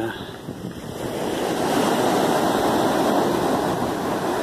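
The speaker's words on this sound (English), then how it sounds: "I'm just waiting to see one of the large waves come crashing in." Large ocean waves break onto the shore at Criccieth, a broad roaring surf that swells in loudness and holds steady, mixed with gusting wind buffeting the microphone.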